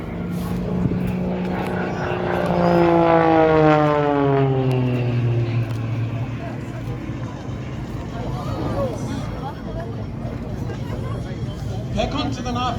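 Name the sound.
aerobatic propeller aeroplane engine during stall turn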